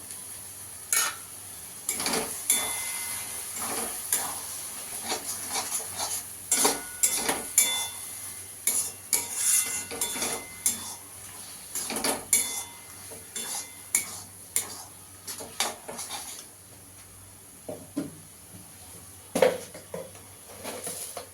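Prawns and taro leaves with mustard, poppy seed and green chilli paste being stirred in a pan, a steady run of spoon scrapes and clinks against the metal over a soft sizzle, close and continuous.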